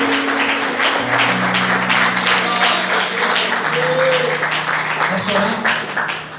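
A church congregation applauds during a Pentecostal-style service, a steady wash of clapping lasting several seconds, with sustained organ or keyboard tones and some voices underneath.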